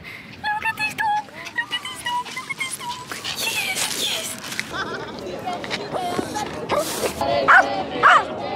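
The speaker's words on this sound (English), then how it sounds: "Look at this dog." A dog yelps, barks and whimpers excitedly outdoors, a run of short high-pitched yips followed by whining, with people talking over it nearby.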